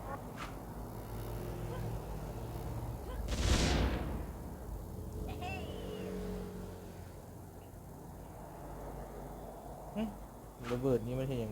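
Explosions in the artillery game Worms Battle: Wormageddon, with a loud booming blast near the middle over steady game music and effects, while players talk and exclaim.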